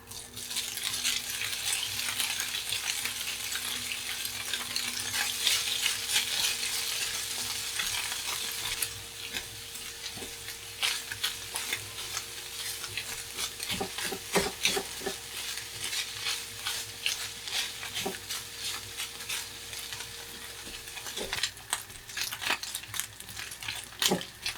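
Peeled crab meat sautéing in a pan outdoors in winter, a constant soft sizzle at first, then sparser crackles and scattered utensil clicks, fairly quiet and moderately distant with no voices.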